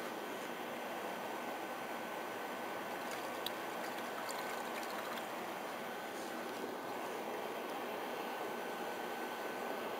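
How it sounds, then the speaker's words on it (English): Gasoline is poured into a Triumph Daytona 675 motorcycle exhaust to check a weld for leaks. A faint, steady trickling hiss runs evenly throughout with no talking. "I'm going to go ahead and pour in the gasoline"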